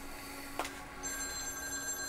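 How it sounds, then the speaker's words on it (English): A telephone rings in the horror video game The Medium, a brief bright electronic trill that starts after a small click and carries on steadily, fairly quiet and alone. "Oh, the phone ringing."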